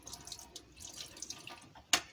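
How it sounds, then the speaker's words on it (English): A tap runs into a small motorhome sink while a spoon is rinsed. Quiet, uneven splashes and drips come from close by, ending with one sharper clatter. "Just turn the water on, rinse my spoon"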